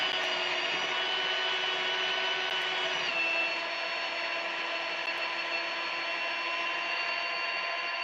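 A power drill bit grinds through material in a steady high whine with a slight pitch drop partway, close and constant for the whole stretch with no talking.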